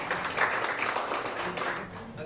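Classroom of students clapping together after a micro-teaching Arabic lesson, a short dense burst of applause heard with voices mixed in.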